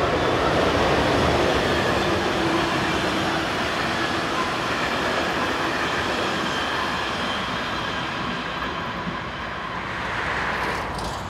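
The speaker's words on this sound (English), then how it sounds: ".4011 was the next to appear, returning south with the 905 service from Troisvierges." A locomotive-hauled passenger train on a Luxembourg railway line rolls past, its steady broadband rumble and wheel noise filling the whole stretch, loud and close throughout before easing slightly near the end.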